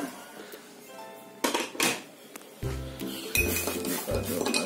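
A coffee mixture for homemade Baileys is stirred in a cup or glass, with a spoon clinking and scraping in irregular bursts against a quiet kitchen background.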